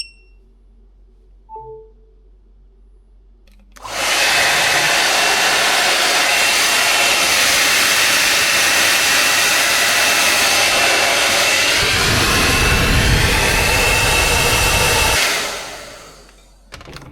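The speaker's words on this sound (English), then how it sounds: "things like hair dryers, which I just mentioned, things with heat elements in them that require high voltage" A hair dryer powered by a portable generator switches on after a quiet moment and blows with a loud, steady whirring rush for about twelve seconds, then cuts off.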